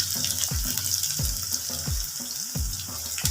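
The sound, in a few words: coriander pakoras frying in cooking oil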